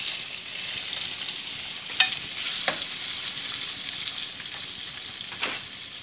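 Shrimp fry in hot oil with a steady, close hiss and crackle, and a few sharp pops and spatters stand out over the sizzle, with no talk.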